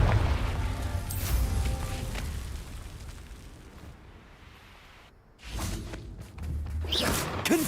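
The Confringo fire spell cast in the video game Hogwarts Legacy, heard as repeated whooshing blasts with booming bursts, fading through a quieter stretch before another loud flurry.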